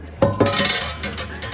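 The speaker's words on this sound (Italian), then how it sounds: "Li trasferisco direttamente nella pentola che userò per cuocere le nostre fragole" Fresh strawberries tipped into a cooking pot for homemade jam, giving a few quick clinks and soft thuds against the metal, close and moderately loud with no talking.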